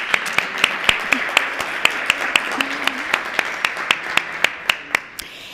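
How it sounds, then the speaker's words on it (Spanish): Applause welcoming panel speakers at a conference on municipal experiences: crisp, evenly spaced claps close by over a quiet room, with a faint voice in the background. "Vamos a recibirles, ¿por qué no?, con un fuerte aplauso desde este primer momento."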